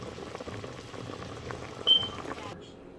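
Chicken feet boil in a pot for Guyanese-style souse, giving a steady, close bubbling hiss that runs throughout, with a brief high whistle near the end before it cuts off.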